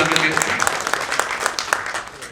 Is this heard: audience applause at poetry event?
yes